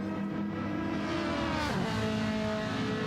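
A Ferrari GT3 race car in a racing video game at the Red Bull Ring drones steadily down the back straight, its engine held at a high, continuous pitch with a brief shift in tone midway, at moderate volume.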